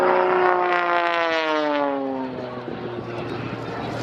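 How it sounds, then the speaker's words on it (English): A display aircraft makes a knife-edge pass at the RAF Cosford Air Show, its loud, droning propeller tone sliding down in pitch as it sweeps past close by, then thinning into a fading roar. "This aircraft very much at the cutting edge of come back past you, and another very impressive knife edge pass."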